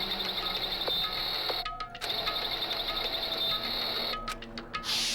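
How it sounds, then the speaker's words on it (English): A printer-like whirring sound effect from the video game Danganronpa: a steady mechanical whine with brief clicks and short breaks, faint and heard alone without speech. "Sounds like a printer."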